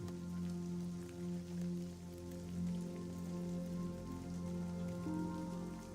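Warm tropical rain falls steadily on surfaces, a dense even patter of drops with a soft constant hiss, with no voices.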